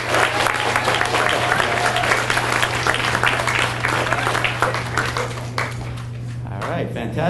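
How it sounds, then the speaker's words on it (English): Parents and audience at a school DARE graduation give a loud round of applause, continuous dense clapping over a steady low hum, thinning out toward the end. "One more round of applause."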